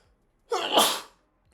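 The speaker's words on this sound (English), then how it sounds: "Hold on, I gotta sneeze." A single close, loud human sneeze lasting about half a second, a sharp onset swelling into a bright, breathy burst, with near silence on either side.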